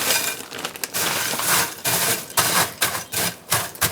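A 26-ounce bag of frozen potatoes tumbling into a baking dish lined with olive oil, a quick run of hard clattering rattles and knocks in uneven bursts, close and loud, with no talking.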